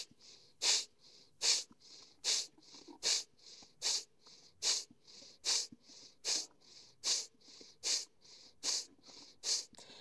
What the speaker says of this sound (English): start to strongly exhale through your nose, like you're blowing your nose